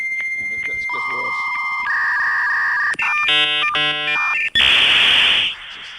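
Dial-up internet modem handshake played from a phone: sustained whistling tones shift into warbling, chirping bursts and end in a loud hissing screech, close and prominent.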